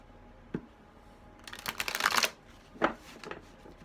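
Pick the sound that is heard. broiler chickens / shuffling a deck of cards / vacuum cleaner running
shuffling a deck of cards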